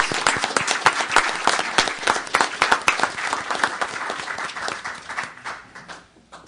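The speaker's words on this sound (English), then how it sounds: "Can we give them a round of applause for their service?" A city meeting audience applauds veterans in a room, a dense burst of clapping that fades out over a few seconds.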